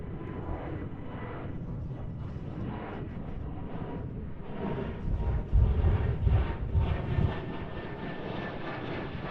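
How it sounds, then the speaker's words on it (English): An airBaltic airliner in Estonian flag livery takes off from the Kaagbaan runway at Amsterdam Schiphol in windy weather, a broad steady engine roar that swells in the middle before easing, with wind rumble throughout. "we have a liftoff from the Estonian flag livery"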